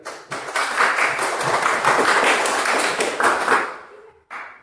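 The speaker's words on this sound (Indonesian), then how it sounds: "Kita beri tepuk tangan untuk Angel." A class of students claps for a classmate in a classroom: a loud, sustained burst of mixed clapping that fades and stops near the end, followed by a brief final flurry.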